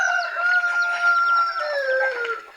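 Chickens on a small mini farm call loudly and close by, with sustained rooster-like crowing and clucking tones that hold steady for about two seconds before trailing off.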